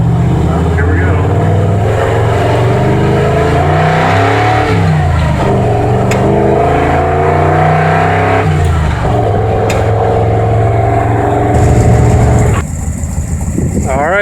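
A Ford engine fitted with a rebuilt Autolite 4100 carburetor revs hard under load, its loud steady roar rising and falling over about fourteen seconds before easing off near the end, with a voice talking over it.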